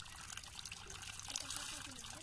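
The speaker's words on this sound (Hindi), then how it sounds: "देख ही पा रहा हूँ ये गर्म पानी।" Hot water pours steadily from a household tap, a continuous hiss and trickle under a noisy background.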